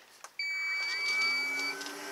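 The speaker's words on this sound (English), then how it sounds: "That's the beep that tells it's on." A workshop dust extractor gives a single clear, steady electronic beep, about one and a half seconds long, signalling that it has switched on, followed by the low hum of the fan starting to spin up.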